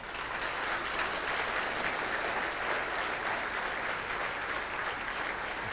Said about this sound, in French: Et je pense qu'on peut applaudir Alain.